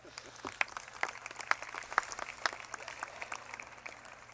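Faint, distant audience applause at a 2017 Oglethorpe University commencement, a soft spread of scattered clapping with a few sharper, evenly spaced claps standing out near the front.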